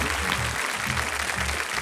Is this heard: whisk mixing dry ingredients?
no